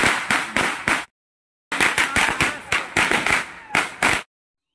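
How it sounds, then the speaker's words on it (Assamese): Firecrackers burst in rapid strings of loud, sharp cracks at a wedding, with a burst of four, a short gap, then a longer volley of bangs before falling silent. "ফটকা ফুটি উঠিছে"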